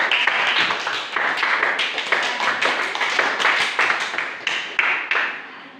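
Classroom applause from a class of students during a primary science lesson on levers: dense, fairly loud clapping that carries on steadily for about six seconds with no talking over it.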